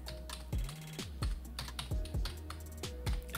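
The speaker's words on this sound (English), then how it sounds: "You can fine tune adjustments by using the arrow keys left to right, up and down on your keyboard" Keys tapped on a computer keyboard at close range: a run of crisp, irregular clicks and a few heavier thumps, like arrow keys pressed in quick succession.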